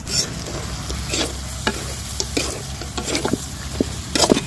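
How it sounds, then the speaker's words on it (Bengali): Bay leaf, cinnamon and cardamom fry in hot oil for a desi chicken curry while a spoon stirs the pan, a steady sizzle broken by repeated scraping strokes, close and alone. "এবার নাড়ি কিছুক্ষণ।"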